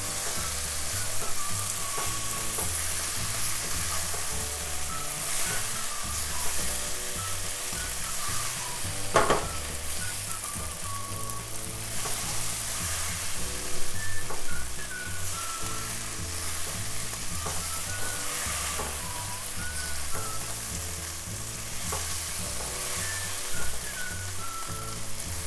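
Okra masala with garam masala sizzles steadily in a frying pan as it is mixed, occasional spatula clicks over a constant frying hiss, with soft background music and no speech.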